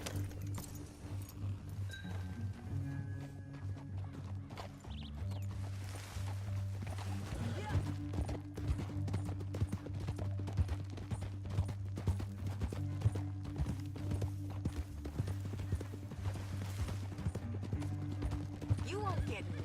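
Steady clip-clop of horse hooves with faint jingling tack in Red Dead Redemption 2, continuous and moderately close, under a low hum and occasional talk.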